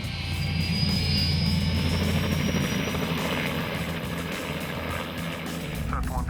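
Loud, continuous helicopter rotor and engine roar heard from on board in flight, with a steady thrum and whine throughout.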